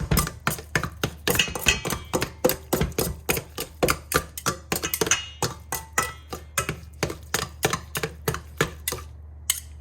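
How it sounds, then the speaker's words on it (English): Two knives chop through boiled eggs for a deviled egg sandwich, giving a quick, steady series of sharp taps on a board, close and crisp, continuing for several seconds with no talk. "Take those 2 knives and just cut it up a little bit more."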